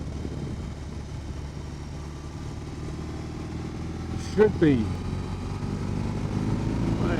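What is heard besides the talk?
BMW R18 Classic air-cooled boxer motorcycle engine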